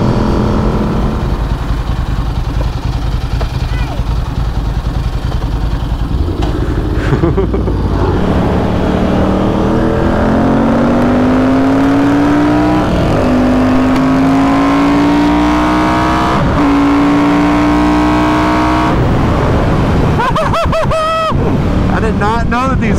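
A Ducati dirt bike with an 1100 engine rides past, loud and close, its motor revving up through rising pitch sweeps with wind buffeting and a final burst of throttle near the end.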